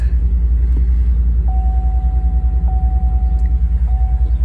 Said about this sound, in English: The truck whines even if you go 0 miles per hour.